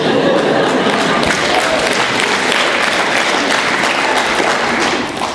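An audience at a talk breaks into loud, sustained applause, a dense, even wash of clapping holding steady before easing slightly at the end.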